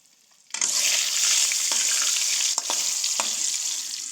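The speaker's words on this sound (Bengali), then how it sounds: "আজকে সুরমা মাছ ফ্রাই করতেছি।" Surma fish frying in a pan: after a quiet moment, a loud hissing sizzle bursts in and holds steady, with a few brief crackles and taps over the constant spatter.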